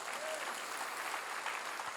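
A church congregation applauding, heard as soft, steady, distant clapping with no voices on top.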